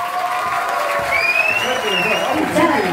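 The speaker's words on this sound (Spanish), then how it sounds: "Recibimos con un fuerte aplauso a Dayana Silva." Applause and crowd noise from an audience welcoming a performer on a stage at a talent show, a broad steady wash with a high whistle-like tone gliding through it, lasting the full few seconds.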